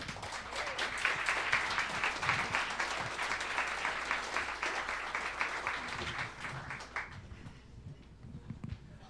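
Audience applause after a talk at a quantum physics evening event, a dense steady clapping from a seated crowd that carries on for several seconds, then thins and fades near the end.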